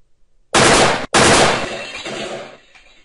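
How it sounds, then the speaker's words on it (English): Two loud, close bursts of simulated gunfire from a Unity 3D game, a short break between them, then a fading crash-like tail as a window shatters. "You shoot it, it breaks."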